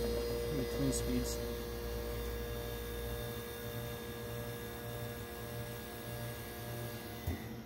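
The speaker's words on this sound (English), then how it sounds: "you'll hear the Seeger fire up, but it's pretty quiet compressor" An early-1970s Sears Coldspot Viewsaver 6,000 BTU window air conditioner runs its quiet compressor as a steady, even drone with tonal hum. The low rumble shifts slightly partway through and nothing else stands out.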